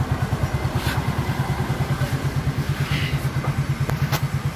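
A Yamaha Mio J scooter idles with a fast, even mechanical ticking from a faulty one-way starter clutch, a steady close clatter under the engine hum, and no talking.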